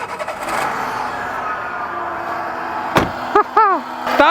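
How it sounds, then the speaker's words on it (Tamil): A 2002 Maruti Zen's engine runs as a steady low hum throughout, with a few sharp clicks near the end and a short voiced sound over it. "நான் ஆன் பண்ணுறேன் இன்ஜினை."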